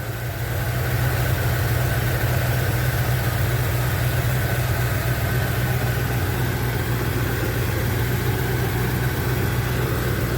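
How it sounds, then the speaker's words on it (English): A 1978 Chevy C10 pickup's engine idles quietly and evenly, a steady low hum with a faint mechanical hiss running unbroken for the whole stretch, no voices over it. "But listen to the motor. I mean, it's real quiet."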